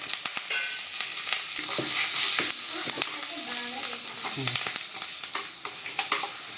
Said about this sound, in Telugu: తాలింపు వేగింది గ్యాస్ కూడా ఆపేసాను